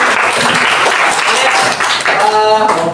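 Classroom of students clapping hands together in unison, a dense burst of claps filling the room with some voices mixed in.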